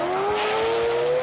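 A Mazda rotary-engined car with a steel flywheel and Mazdaspeed single-plate clutch revs hard toward 9,500 RPM, a loud, smooth, rising high-pitched buzz held close for just over a second with no voices.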